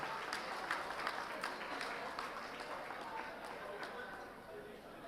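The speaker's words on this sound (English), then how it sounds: "How about a big round of applause?" Moderate crowd applause fills a reunion hall, a steady wash of many hands clapping at an even level, with some voices mixed in.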